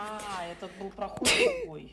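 A woman sneezes once, sharp and close, right after a man's brief speech, with a short breathy follow-up as the sneeze fades.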